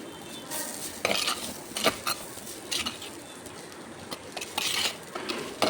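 Long beans sautéed with spices in a pan for poriyal, spatula strokes scraping and clattering in irregular bursts over a soft background sizzle, close and without speech.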